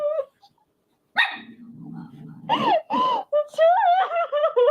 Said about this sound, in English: There's the dog they saved, perhaps.